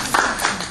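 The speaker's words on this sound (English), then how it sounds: "I feel like I should clap. You should clap." An audience claps at the 2017 International Campus Conference, a brief burst of dense, steady applause heard up close.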